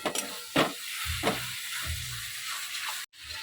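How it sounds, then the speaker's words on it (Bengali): Meat sautéing in a pan for a curry, giving a steady hiss and sizzle with a few scraping stirs, close and fairly loud. "চলো মাংসটা দিয়ে দিয়েছি এবার বেশ কিছুক্ষণ কষাই"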